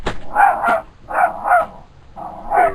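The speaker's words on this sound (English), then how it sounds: "I hear the guard dog." Guard dog barking in repeated bursts of two or three barks at a time, fairly close and loud, with short gaps of quiet between the volleys.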